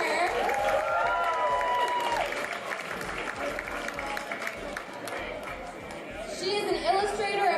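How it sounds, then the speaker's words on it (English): Audience applause and crowd chatter greet an artist at an easel during a live painting event, a steady wash of clapping mixed with voices, and a speaking voice rising near the start and again at the end. "Let's give a big round of applause for her."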